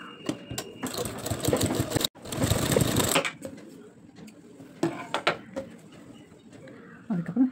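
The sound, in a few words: sewing machine stitching blouse lining cloth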